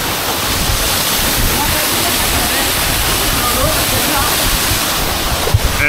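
A waterfall in Igbaras, Iloilo, Philippines pours with a loud, steady, close-up roar of rushing water that fills the whole stretch, with faint voices blended into the noise.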